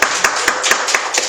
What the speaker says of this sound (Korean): 오늘 우리 모든 이 자리에 참여한 분들에게 감사와 또 하나님께 영광의 박수를 올리겠습니다